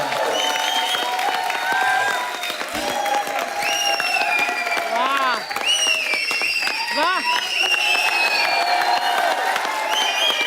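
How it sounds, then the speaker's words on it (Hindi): A studio audience on a comedy talk show claps steadily, with cheers and whoops over the applause and tonal music or voices sliding through it. "जोरदार तालियां"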